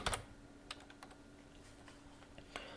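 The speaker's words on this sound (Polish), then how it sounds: "Wpisujemy sobie Facebook." Quiet, close computer keyboard typing: a few scattered key clicks spread across under three seconds, irregular and soft, with no voices.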